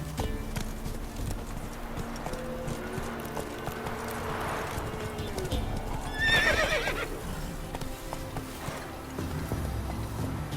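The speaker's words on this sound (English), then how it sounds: "Run, Roach." A horse in The Witcher 3 video game running, with rhythmic hoof clip-clops over a continuous low rumble of background game sound, and a loud whinny midway, close and prominent, with no speech.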